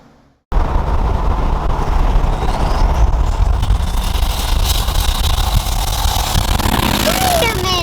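A turbocharged Chevrolet Tahoe engine runs hard on a dyno, a loud continuous roar and whine that starts abruptly after a brief quiet moment and holds steady at high output throughout.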